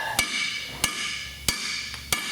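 Four sharp, evenly spaced hammer blows strike a Chevy 3500HD rear hub assembly, each a loud metallic clang with a short ring, over a steady background hum.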